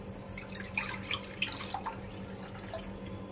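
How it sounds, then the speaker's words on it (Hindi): A blended drink of pumpkin seeds, chia seeds, gond katira, coriander and mint is strained into a bowl, giving soft trickling and dripping liquid sounds, faint and close. "अब इसको अपने एक बाउल में छान लेते हैं।"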